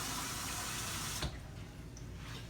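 Running tap water pours steadily into a cooking pot for turkey wings and butter bean soup, a close, continuous rushing gush that shifts in tone partway through as the pot fills.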